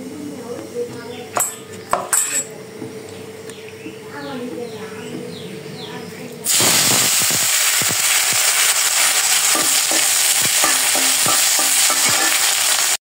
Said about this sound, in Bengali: এখন এই যে মচমচে করে আলু ভাজবো